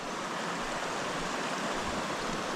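A spring creek rushes and tumbles over rocks in its stream bed through small cascades, a steady, full, close hiss of moving water with no break and no voices.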